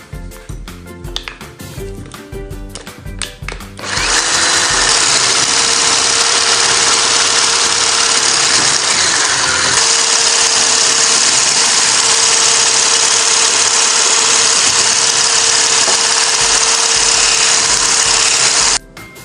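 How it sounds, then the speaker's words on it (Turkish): An electric mixer whisks egg whites with powdered sugar for a rolled cake. After a few seconds of clatter, a loud, steady whir runs without a break for about fifteen seconds and then cuts off abruptly. "Şimdi azar azar pudra şekeri ekleyerek çırpmaya devam edeceğim."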